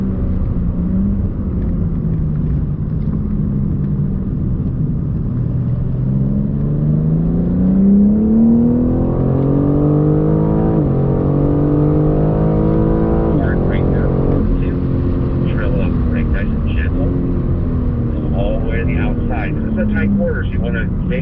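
A BMW circles the Thermal race track, its engine droning steadily and sweeping up and down in pitch as it accelerates out of corners and lifts off again. The engine stays loud and close throughout, with a person talking over it.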